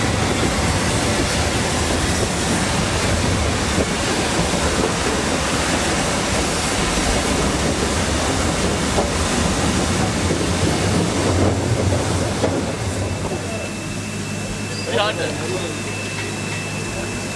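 A Nilgiri Mountain Railway train in India rumbles on with a continuous loud clatter and roar, easing slightly toward the end.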